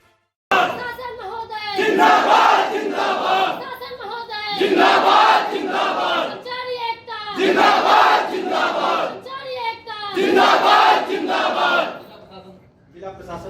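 Protesters in Amethi chant slogans against the district administration over a sealed hospital, a loud crowd shouting in repeated rhythmic bursts separated by short pauses.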